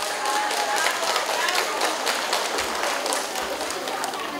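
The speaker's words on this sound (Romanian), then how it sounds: "Vă rog să-i aplaudați!" Applause breaks out at a local ceremony in Udești honouring top-scoring school pupils, a broad patter of clapping from a crowd, with some voices faintly mixed in.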